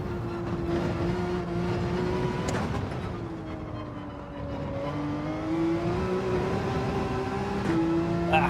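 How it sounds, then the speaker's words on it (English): A Porsche race car in Gran Turismo 7 drives under steady engine drone, pitch climbing and dropping through gear changes, a continuous close roar with faint brief ticks and no talking. "just with the way the Porsche accelerates and understeers"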